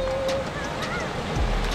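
Heavy outdoor rain pours down in a steady, loud wash, broad and continuous, with wind buffeting the microphone and no talking over it.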